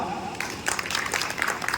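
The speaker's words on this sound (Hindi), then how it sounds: "ताली बजाते रहो" Brief, loose clapping from a seminar audience in an indoor hall, a scattering of hands picking up partway through and continuing unevenly at moderate volume.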